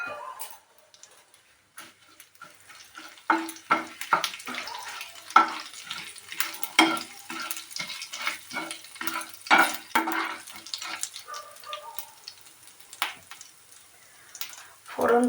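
Ajwain and shahjeera seeds fry in hot oil in a pan, giving off irregular, close, crisp crackles and small pops that rise and fall in clusters over a quiet background.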